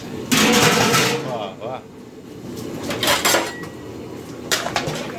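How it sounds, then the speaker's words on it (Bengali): Mutton stirred and sautéed in a pot at an office picnic brings clanking metal-on-pot knocks and scraping, loud and close, while people talk over it. "এই মাটন কষা হচ্ছে"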